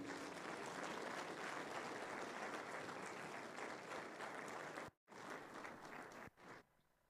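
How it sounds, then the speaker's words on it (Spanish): Crowd applause welcoming a pastor at an evangelistic campaign, sustained dense clapping from a large gathering that briefly cuts out, then resumes and tapers off quietly near the end. "Con fuertes aplausos le recibimos."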